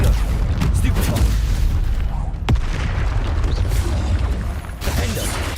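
A Confringo fire-blast spell in Hogwarts Legacy: loud, dense rumbling booms and crackling impacts run throughout, with a sharp crack partway through.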